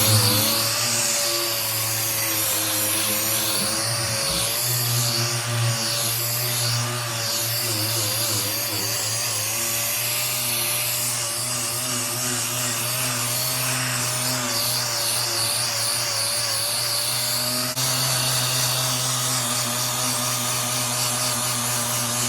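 Sanding bare metal on a GMC CCKW truck with 320 grit paper gives a loud, steady, continuous rasping whir that runs unbroken throughout, with no talking.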